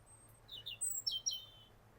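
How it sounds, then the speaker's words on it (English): Several faint, thin robin chirps and short whistled phrases in quick succession, distant and soft against a quiet outdoor background on the Isle of Wight. "these robins. They're not singing quite as passionately as they often do this time of year."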